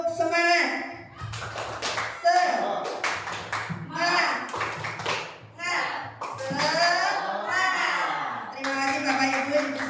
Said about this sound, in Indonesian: Oke, mari kita tepuk semangat.